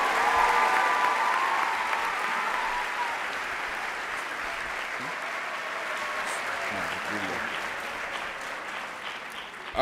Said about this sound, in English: Can we have a round of applause for all of our winners?